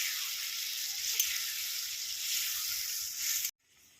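Vegetable and paneer gravy bubbles and sizzles in a pan on the stove, a steady close hiss with faint crackles that cuts off abruptly near the end.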